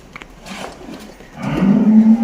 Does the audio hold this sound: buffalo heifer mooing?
yes